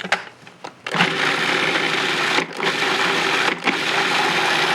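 A blender whirs loudly and continuously, its motor briefly dipping twice before roaring back up while it purees a chipotle pepper marinade.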